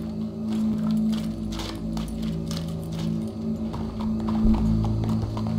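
Horse hoof clip-clops in the western video game Red Dead Redemption 2, a loose run of steps over a steady low hum and crowd ambience at a town hanging, with no clear neigh.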